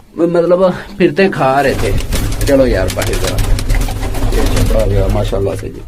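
Pigeons coo steadily throughout, close and fairly loud, beneath someone talking casually over a constant low hum.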